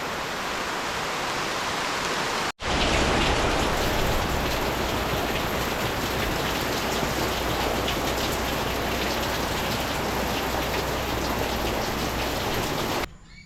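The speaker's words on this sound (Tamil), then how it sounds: "அது மழையும் வந்துடுது" Steady heavy rain pouring down, a dense continuous hiss after a brief cut near the start, with no voices.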